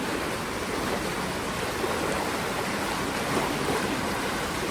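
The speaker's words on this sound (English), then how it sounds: "listen to the gurgling water" Copper Creek Falls at a wilderness-style resort rushes and gurgles in a steady, broad wash of flowing water, close and constant, with no voices.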